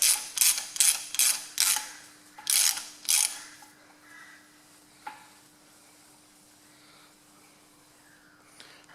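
A ratchet wrench works a cylinder head stud loose on a Ferguson TE20 tractor. A quick run of loud, close clicking bursts comes in the first few seconds, then fades to a quiet steady hum with one faint knock and a click at the end.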